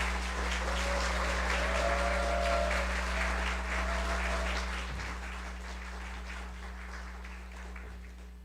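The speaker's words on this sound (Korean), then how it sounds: "그래도 오실 때 우리 박수로 맞이하도록 하겠습니다." A church congregation applauds as a preacher comes forward at a Sunday service, a broad wash of clapping that holds steady before slowly fading, over a low hum from the hall.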